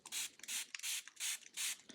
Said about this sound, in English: the first thing I'm going to do is take my spray bottle